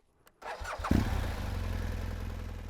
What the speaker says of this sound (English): I will add throttle to build momentum to keep the bike upright